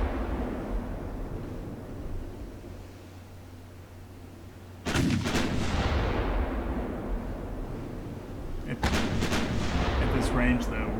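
Naval 9-inch guns boom from the Ultimate Admiral Dreadnoughts game, two heavy loud blasts several seconds apart with rumbling decay, over a continuous low sea and engine drone.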